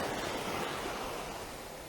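Ocean surf at an island beach at daybreak, a steady, fairly loud wash of broadband noise that fades slightly toward the end, with no voices.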